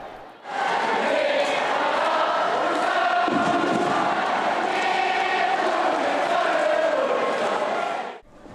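Ulsan HD away supporters cheering in the stands at a K League 1 football match, a loud massed chant swelling in after a moment and holding steady, voices singing together before fading at the end.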